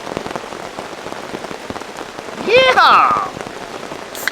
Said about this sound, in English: Well, guess we got a rainstorm.